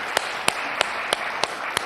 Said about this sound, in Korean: 축하하는 박수를 하겠습니다.